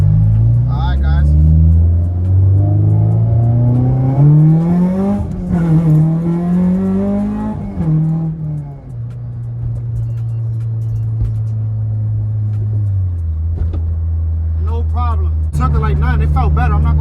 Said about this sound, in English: I'm about to drive a little quicker now.